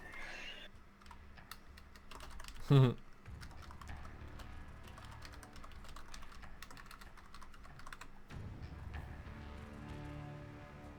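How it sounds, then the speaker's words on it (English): Someone types on a computer keyboard during a livestream, a continuous run of quick, close key clicks broken by one brief louder tonal burst early on. "What you typing?"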